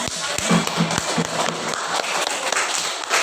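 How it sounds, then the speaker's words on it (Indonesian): Students in a classroom give a student group a round of applause, with many overlapping claps sustained for a few seconds and a voice briefly heard near the start. "Tepuk tangan untuk kelompok"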